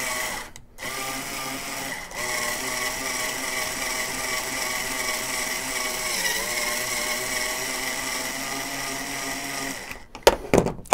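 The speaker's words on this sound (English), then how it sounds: "trimming brass and then reloading" A power trimmer trimming .308 Win brass cases, a steady whirring motor grind held for about eight seconds between short stops, followed by a few sharp clicks and clatter.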